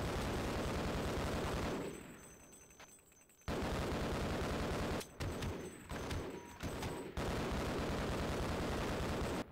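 Marines firing on the player in Half-Life, with a thrown grenade: dense, continuous rattling gunfire at close range, broken by a short quieter spell and several abrupt cutoffs, then resuming at full loudness to the end.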